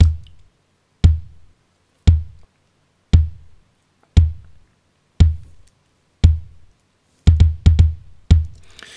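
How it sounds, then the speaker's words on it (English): Acoustic kick drum sample from Logic Pro, a clicky, punchy thump repeated about once per second, then a quicker flurry of hits near the end, dry and close with no talking. "So it's got that kind of like clicky kind of acoustic duk duk going for it."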